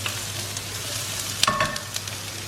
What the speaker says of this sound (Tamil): இதை ஒரு 1 நிமிஷம் நல்லா சாட்டே பண்ணி விடுங்க.